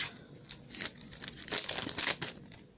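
A pack of Panini football stickers being opened: close, soft crinkling and tearing of the foil wrapper in quick bursts over a few seconds, fairly quiet, with no talking.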